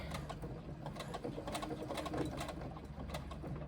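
A sewing machine runs steadily, stitching a fabric pouch back up with a continuous mechanical whir and rapid needle clatter, close by, alone.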